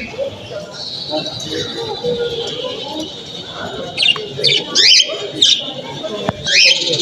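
Caged birds squabble at a bird fair, with sharp squawks and chattering bursts rising over a crowded hall's murmur of voices, louder flurries in the second half.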